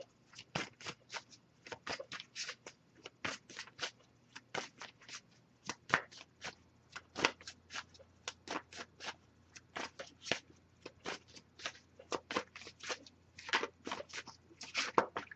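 A deck of tarot cards shuffled by hand, giving a long run of quick, crisp riffling bursts in an uneven rhythm, close and fairly clear over a quiet background.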